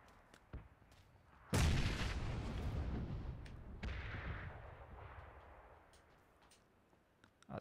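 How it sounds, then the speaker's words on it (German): A grenade detonates in a first-person shooter video game with one loud, close blast and a long rumbling tail, preceded by a faint pop and followed by scattered distant shots. "Der hat Granate geschossen"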